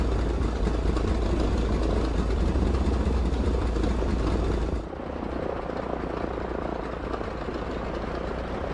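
Inside the cockpit of a Pipistrel Panthera on its takeoff run, the propeller engine gives a loud, steady roaring drone. The pitch and level shift slightly partway through, with no speech.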